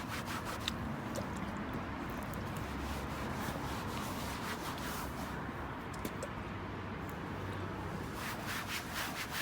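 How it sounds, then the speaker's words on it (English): A cloth wipes steadily over a plastic car bumper with IPA, making a continuous close, soft rubbing and scuffing sound with no pauses and no talking. "So just carry on wiping around with the IPA."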